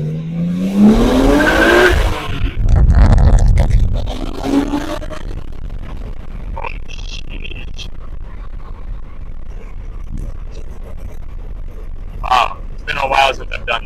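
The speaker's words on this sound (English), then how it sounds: "Spun the tires in first." A BMW E36 M3 with its factory S52 engine accelerates hard in first gear, its loud rising engine roar mixed with tire noise for a few seconds, then fading into cabin road noise while someone talks.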